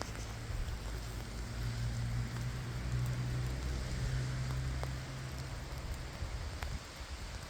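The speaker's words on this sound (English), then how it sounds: "And it's raining" Rain pattering steadily on a tent at a fuel station campsite, a continuous close hiss of drops with a low engine-like hum underneath and no talking.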